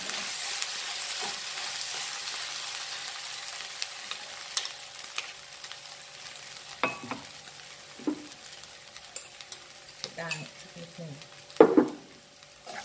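Fermented pork (naem) with mushrooms and egg stir-fried in a pan: a steady close sizzle with scattered scraping and clinking stirs, a louder burst of stirring near the end, and no talk.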